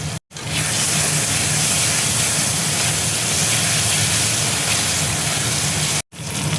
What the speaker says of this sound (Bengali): আদা রসুনের পেস্ট দেখো দিয়ে দিচ্ছি।